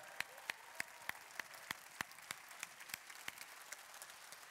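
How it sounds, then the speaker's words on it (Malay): Audience at a TN50 dialogue event applauds Prime Minister Najib: faint, steady claps in an even rhythm, roughly three per second, over a soft hall wash. "Tepukan gemuruh sekali lagi untuk Perdana Menteri kita."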